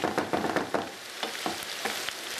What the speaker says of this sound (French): on peut recouvrir pour permettre aux légumes de bien suer